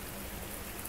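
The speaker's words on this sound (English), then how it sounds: "Because it's just raining and raining and raining now." Steady, dense rain hiss pours down in the survival game SOS Survival, a continuous wash of drops with no pauses and no voices.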